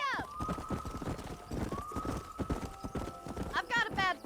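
Hooves clip-clop at a steady galloping rhythm from a horse in the video game Red Dead Redemption, running under ongoing dialogue, with a whinny near the end.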